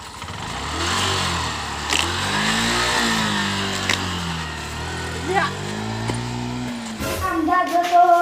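Motorbike engine running steadily up close, its pitch rising and falling as it revs through gears, with a sharper rev near the end; people talk over it.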